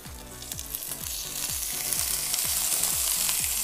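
Sous-vide lamb shoulder sears in a very hot pan with olive oil, giving a loud, steady sizzle and crackle with rhythmic scraping or stirring strokes repeating about twice a second, growing more intense toward the end.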